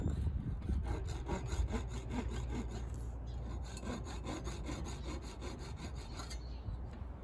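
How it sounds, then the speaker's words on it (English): A hand saw trims cured inlay flush on an electric guitar body, giving quick, rhythmic rasping strokes that are close and steady throughout the short stretch, with no speech. "I'm just going to take this saw and trim it off very gently"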